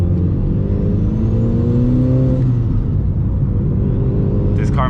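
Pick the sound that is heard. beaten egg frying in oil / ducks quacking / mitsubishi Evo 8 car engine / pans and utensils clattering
mitsubishi Evo 8 car engine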